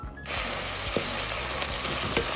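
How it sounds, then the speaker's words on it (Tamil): Chopped onions and green chillies sizzling in hot oil in a pan while cooking veg pulav, a steady close crackling hiss with a few soft stirring knocks. "வெங்காயமும் பச்சை மிளகாவும் சேர்த்தாச்சு. இது நல்லா வதங்கட்டும்."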